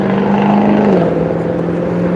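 A car accelerates hard on a road beside a patrol car, its engine a loud, close, steady drone that dips slightly in pitch partway through before holding even.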